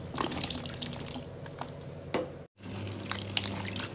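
Jackfruit pieces washed in water with rock salt, giving a busy close-up sloshing and dripping with scattered splashes and clinks and one brief gap of silence.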